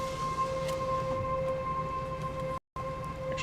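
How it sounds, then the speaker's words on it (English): Tornado warning sirens sounding during a confirmed tornado warning in North Dakota, a steady distant wail holding a sustained tone throughout, faint and continuous with a brief dropout near the end and no voices. "Actually hear the sirens."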